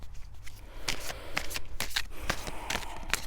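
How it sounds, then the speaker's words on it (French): Playing cards are riffled and shuffled close by, with repeated crisp flutters and snaps in quick bursts. "je remets toutes les cartes"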